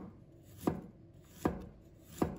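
A knife cuts fresh ginger into slices on a board for bitter melon and pork rib soup, giving three evenly spaced, crisp chops against a quiet kitchen background.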